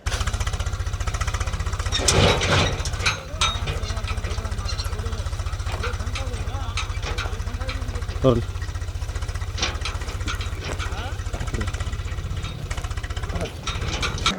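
A JCB excavator's heavy diesel engine runs continuously at close range in a forest, a steady low rumble with occasional clanks and knocks over the top.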